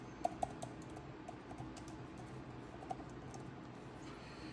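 Faint, quiet keystrokes on a computer keyboard click sparsely over a low room hum, with a few slightly sharper taps and no voices.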